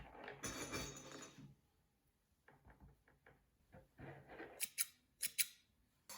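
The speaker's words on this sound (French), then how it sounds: "Donc mon stick mesure 20 cm, on va le couper à 10 cm." Bamboo sticks being cut from 20 cm down to 10 cm for a DIY bohemian hanging light, giving a few close, sharp snipping crunches in short bursts separated by quiet pauses.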